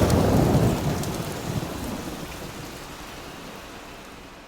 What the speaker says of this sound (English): The manor and beyond has seen unusually heavy rains this season, and this storm lasts deep into the night.